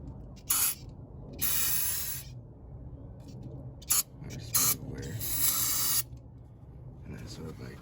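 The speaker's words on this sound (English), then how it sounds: "All I gotta do is just spray it onto here." Throttle body and air intake cleaner sprayed onto a Nissan 350Z intake in several short and longer hissing bursts, close and crisp, over low background hum with quiet talk nearby.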